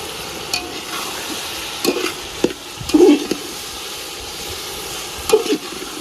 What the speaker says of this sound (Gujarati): તો મિત્રો, હવે આપણે મસાલા પણ નાખી દઈશું